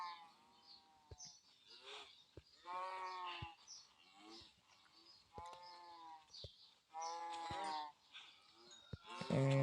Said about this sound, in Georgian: გადავაროთ კი არა გავამრავლოთ ძროხები.